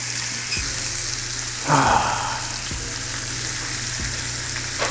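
Steak sizzling in a pan while basted with butter and fresh garlic, a steady close hiss with a brief louder surge of spattering midway and a few soft knocks, no voices.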